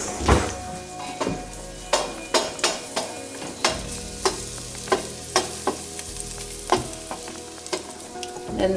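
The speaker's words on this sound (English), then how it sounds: "I'm going to put a little butter in the bottom of the pan, and then I'm going to add the garlic. Let that saute for a moment." Garlic sautés in butter in a pan, sizzling steadily while a utensil stirs and taps against the pan in a series of regular knocks.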